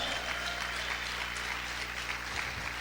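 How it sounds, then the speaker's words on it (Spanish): A church congregation claps loudly and continuously at the urging to applaud the Lord, a dense, even roar of hands filling the room without clear speech. "¿Cuántos pueden aplaudir fuerte al Señor?"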